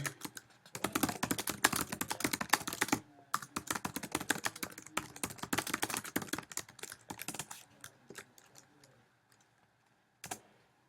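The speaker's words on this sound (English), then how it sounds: "The first thing I do with a topic like this is simply type it into Google." Fast typing on a computer keyboard, close and crisp, with dense clusters of key clicks, brief pauses, then a trailing off into sparse taps and one final keystroke.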